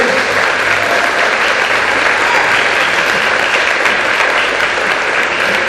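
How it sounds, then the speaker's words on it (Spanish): Steady, dense applause from a large church congregation, loud and continuous throughout with no pauses. "Denle aplausos al Señor"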